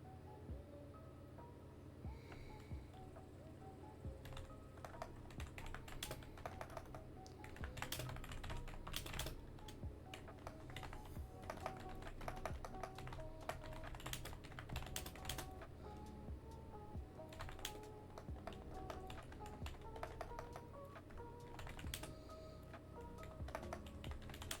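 Steady, rapid typing on a computer keyboard, with dense irregular key clicks and taps continuing for over twenty seconds, faint and close, without speech.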